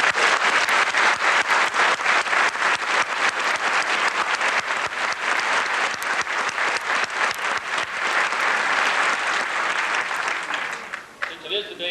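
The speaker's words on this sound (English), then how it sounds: "I'd ask you to join me in a round of applause for the first and second MPOC." An audience at a police academy graduation gives sustained, loud applause with crisp individual claps standing out, fading away near the end as the room settles.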